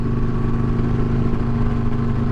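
A motorcycle engine rumbles steadily and loudly on a bridge, a deep continuous exhaust drone with a slightly rough, throbbing texture and echo, close by.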